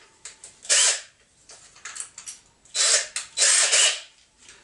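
Hex bolts on a new string trimmer's handle being unscrewed with a hex key or small driver, giving short bursts of whirring and ratcheting clicks in an irregular rhythm, close and moderately loud.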